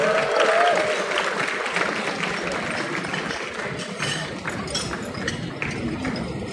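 Applause from guests at a Malay wedding reception greets the bride's youngest brother, a steady wash of clapping with crowd chatter mixed in and voices talking over it throughout.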